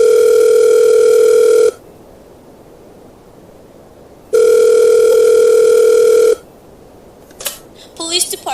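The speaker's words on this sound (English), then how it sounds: "Ringing the police department." A telephone rings out on a call to a police department, two long loud electronic rings separated by silence, then brief clicks and faint voice sounds at the end.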